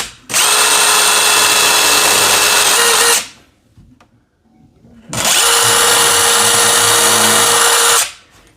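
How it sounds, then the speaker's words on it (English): A power drill bores a hole into a wall for a fire extinguisher mount in two long, loud, steady bursts of about three seconds each, separated by a brief quiet pause. "drill the first one"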